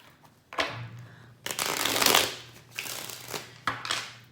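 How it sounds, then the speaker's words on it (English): Tarot cards being shuffled close up, several quick riffling bursts and soft flutters in an uneven rhythm, fairly quiet with no talking. "So I'm going to shuffle the cards"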